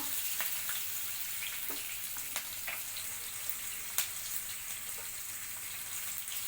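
Green chillies sautéing in a pan for coconut rice, a steady soft frying hiss with a few faint sharp crackles and pops scattered throughout.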